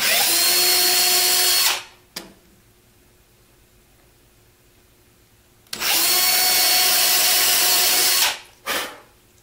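A power drill bores pilot holes in wood for a hinge, loud in two bursts of whirring of about two seconds each, with brief quiet pauses and a short stop-start between them.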